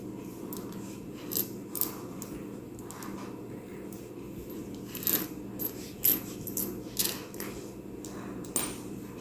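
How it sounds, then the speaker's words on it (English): US coins clink and rattle as they are handled, with a series of small metallic taps and jingles, quiet and close, some louder clusters of clinks toward the end. "Let us start with the coins before talking about the paper bills."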